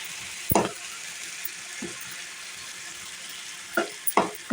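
Gravy paste for a lentil curry sizzling as it fries in a pan, with a few sharp stirring scrapes at intervals over a steady soft hiss.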